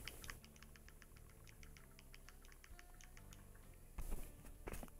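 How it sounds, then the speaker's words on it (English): Quick, light typing on a computer keyboard, a fast patter of soft key clicks at low level, with a brief louder burst of keystrokes near the end, no talk. "let's type in Oblivite now"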